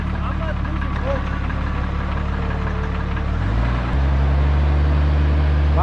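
Engine of a Toyota 4Runner during a rollover recovery at midnight rumbles steadily, then rises in pitch and holds louder as it is revved, close and loud beneath voices.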